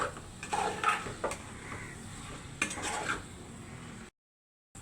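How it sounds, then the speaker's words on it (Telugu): Chili powder being added with a big spoon to a potato curry in a pan, giving a few soft scrapes and light clinks of the spoon against the pan followed by quiet stirring, with no talking. "ఒక పెద్ద స్పూన్తో కారం వేస్తున్నాను."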